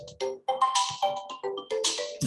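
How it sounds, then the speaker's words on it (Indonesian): A phone rings with an incoming call, a melodic ringtone of short repeated tone phrases with brief pauses between them, sounding clear and close. "Nah itu banyak telepon masuk."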